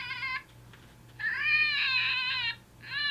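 An electronic predator hunting call plays a loud, wavering cat-like meow in repeated bursts separated by short gaps, heard close and alone over a low steady hum.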